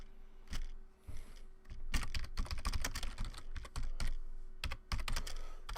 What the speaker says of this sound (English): I'm going to make all kinds of typing errors